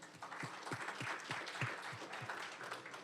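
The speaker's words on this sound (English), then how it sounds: "let's do a round of applause." Audience applause at a deep learning meetup in Austin: a short, faint patter of scattered clapping from a small crowd, steady for a few seconds.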